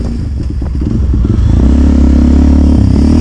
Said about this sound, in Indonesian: Pagi ini saya ditemenin sama motor yang baru kali ini saya pakai, KLX 230